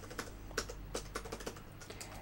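A command is tapped out on a computer keyboard in a Linux setup, soft close keystrokes arriving in an irregular patter over a faint steady background hum, with no talking.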